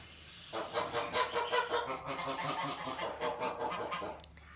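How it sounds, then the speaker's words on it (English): Goslings, day-old and two-day-old baby geese, peep in a rapid, busy chorus of close, soft chirps lasting a few seconds. "So 2 of these goslings are 2 days old, and 1 is just a day old."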